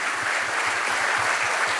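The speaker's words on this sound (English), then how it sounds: "A round of applause for every woman here." A room full of people applauds for women in the audience, with dense, sustained clapping that stays loud and even throughout, without pause or any voices rising above it.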